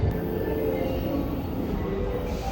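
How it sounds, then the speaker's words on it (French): Seoul metro train pulling into an underground platform, a steady loud low rumble of wheels and motor filling the station without a break, with no talk over it. "le train il est en train d'arriver"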